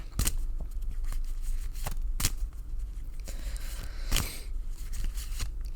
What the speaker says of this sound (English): I'm going to shuffle cards until Spirit tells me to stop